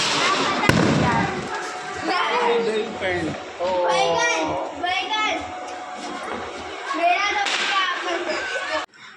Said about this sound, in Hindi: उसके बाद यहाँ पे पटाखे फोड़ रहे थे छत पे